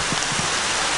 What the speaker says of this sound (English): It's a lot of hail.